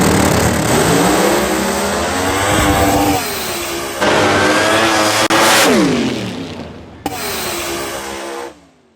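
Pro Modified drag cars launching at an IHRA Pro Mod Nationals qualifying session, a loud, close roar of engines revving and rising in pitch, cutting off and firing again with sharp pops before fading away.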